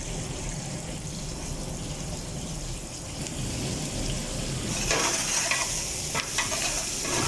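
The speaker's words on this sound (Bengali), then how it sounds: "ভালো মতো সতে করতে হবে অনিয়নটাকে।" Onion sautéing in a pan with garam masala, cinnamon, cardamom, cloves and star anise for mandi rice: a steady close sizzle and frying hiss, with brighter scraping stirs toward the end.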